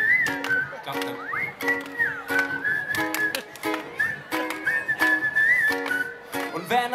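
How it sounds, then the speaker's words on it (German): A person whistles a bright melodic tune during a live summer song performance at a festival, the whistle held over a rhythmic plucked accompaniment. "Versuch mal zu pfeifen und zu lachen."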